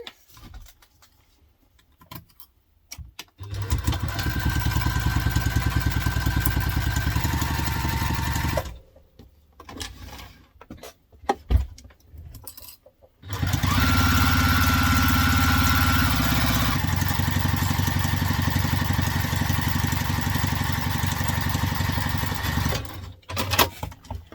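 A sewing machine sews a seam on an onigiri bag, running in two long steady motor passes with short quiet pauses and clicks between them.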